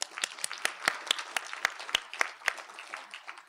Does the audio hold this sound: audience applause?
yes